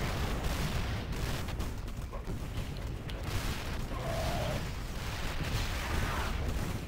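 Dense, continuous gunfire and explosive booms from marines shooting at broodlords in the video game StarCraft 2, a steady loud barrage lasting throughout with no pauses.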